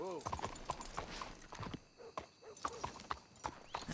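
Horse hooves clip-clop at a steady walking rhythm in the video game Red Dead Redemption 2, close and distinct, with a few muffled voices and a faint whinny in the background.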